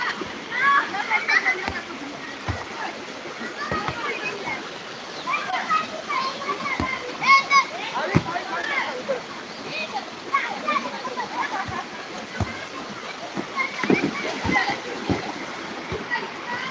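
Water splashes and churns steadily in a waist-deep village bathing spot in a stream while children's voices chatter and shout nearby throughout.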